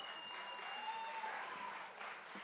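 An audience at a live music show applauds with steady, fairly faint clapping that swells briefly and dips near the end.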